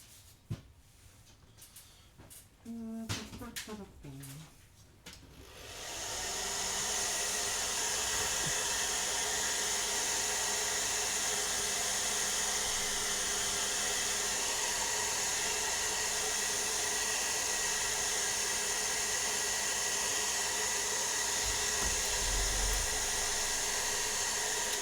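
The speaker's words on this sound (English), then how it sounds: "Use a bit of hair dryer." A hair dryer starts up after a few seconds of quieter clatter and blows steadily with a loud, even whoosh to the end.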